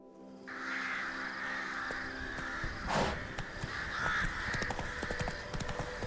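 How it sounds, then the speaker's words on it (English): Crows caw several times in The Witcher 3 video game over a steady ambient background, with a bright, harsh call standing out midway and softer clip-clop footsteps throughout. "Watch out for the creepy crows."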